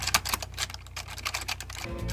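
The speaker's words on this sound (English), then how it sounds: "here's some more typing sounds." Fingers type on a Matias Quiet Pro mechanical keyboard, a close, rapid run of soft clicky keystrokes in an uneven rhythm with no talking.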